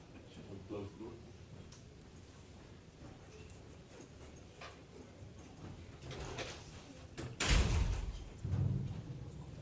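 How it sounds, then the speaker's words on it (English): In a lecture room, a door swings closed and lands with a dull thump near the end, set against a murmuring hall with faint speech and shuffling around it. "Close the door."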